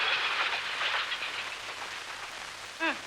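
An eastbound train passing close by: a steady, rushing rumble that eases slightly, then a short high squeal just before the end.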